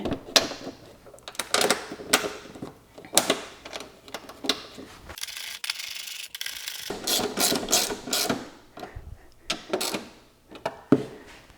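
Ratchet clicking in quick bursts while bolts are tightened down on the airbox of an FD Mazda RX-7, close and fairly loud, with a brief pause midway and no talking.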